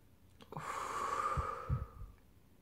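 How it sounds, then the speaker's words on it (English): A single slow, deep exhale through the mouth during a rhythmic breathing exercise, a breathy airy rush lasting about a second and a half, close and soft, with no talking. "you are engaging in rhythmic or deep breathing"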